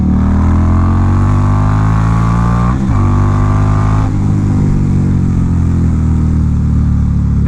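An Indian Scout motorcycle's engine, recorded close and loud, droning steadily after a downshift into second gear, with a quick dip in pitch midway before it settles back into a strong, even rev.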